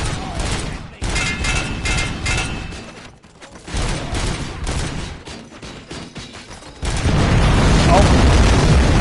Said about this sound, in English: that was definitely a kaboom